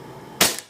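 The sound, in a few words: gun shot fired while testing ballistic goggles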